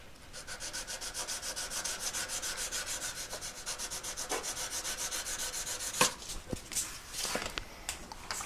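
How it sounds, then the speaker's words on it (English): A ring is buffed with a smooth, worn buff stick, giving a rapid, rhythmic rubbing swish of even strokes, close and fairly quiet, that turns into a few sharper, uneven scrapes near the end. "Let me just get it with a smooth worn out bit of my buff stick."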